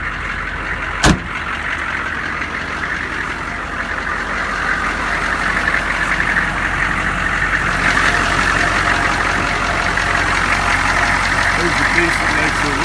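An M1010 army truck ambulance engine idles steadily and smoothly nearby, a low continuous rumble with a brief knock early on, while a person talks over it.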